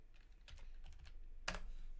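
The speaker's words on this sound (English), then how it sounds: "I type in SSD" Fingers tapping at a computer keyboard, a short run of light keystrokes ending in one louder key hit, quiet and close.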